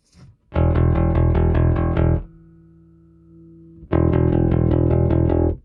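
Electric guitar boosted by a Luminal Booster Ultra pedal: a loud, close run of rapid repeated picked chords, a held quieter ringing chord, then another burst of fast strummed chords, with no talking.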